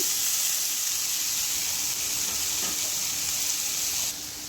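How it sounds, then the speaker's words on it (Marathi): Grated pumpkin fries in ghee in a hot wok with a steady, bright sizzle and faint stirring scrapes, and the hiss drops slightly at the very end. "भोपळा आपल्याला तुपावर छान परतून घ्यायचा आहे"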